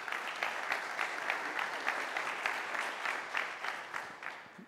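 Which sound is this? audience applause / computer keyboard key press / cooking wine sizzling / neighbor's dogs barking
audience applause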